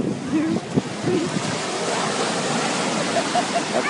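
Sea waves washing onto a Santorini beach, a steady close surf roar with wind buffeting the microphone and faint voices underneath.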